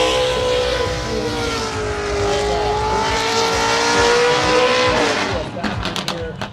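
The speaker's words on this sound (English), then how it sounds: "you can see some of these drivers are really standing on the throttle, making sure the machine's getting out to where they want to be" Drift cars revving hard on the throttle at a drifting event, a loud continuous engine roar with rising and falling harmonics and tire noise, crowd and voices faintly underneath.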